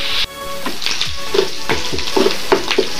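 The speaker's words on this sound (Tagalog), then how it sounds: "Igisa natin siya hanggang sa mag-golden brown" Boiled meat sautéing in a pan until golden brown for a squash and long bean coconut stew, a steady close sizzle with repeated stirring scrapes and clinks of a utensil.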